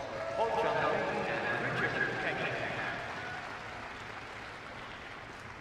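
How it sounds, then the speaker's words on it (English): A crowd at a junior figure skating Grand Prix ice dance event in Colorado Springs applauds loudly, then the clapping gradually thins and fades, with a voice speaking over it. "ladies and gentlemen, give them another round of applause"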